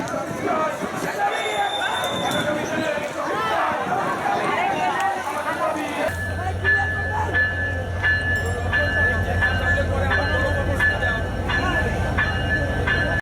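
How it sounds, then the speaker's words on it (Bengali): A train rumbles past nearby with a steady low roar and rattling wheels at a station in Rajbari, Bangladesh, while people at a human-chain protest talk and a crowd murmurs in the background. "ট্রেনকে কেউ বাধাগ্রস্ত করবেন না, কেউ ট্রেনের সামনে যাবেন না"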